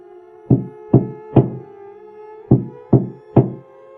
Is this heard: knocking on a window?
yes